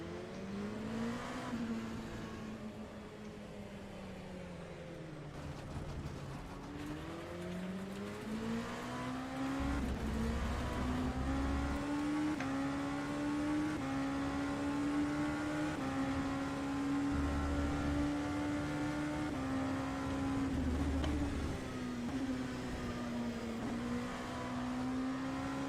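An LMP2 prototype race car in rFactor 2 on a wet Silverstone circuit, its engine droning loud and steady throughout, with pitch dipping and climbing through gear shifts and a few low thumps along the way.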